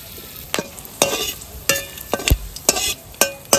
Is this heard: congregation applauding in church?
no